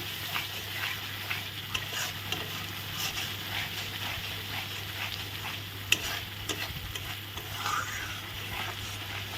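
Food frying in a pan with ground nut paste is stirred steadily: a continuous sizzle under scraping and clinking of a spatula against the pan, with a low steady hum beneath.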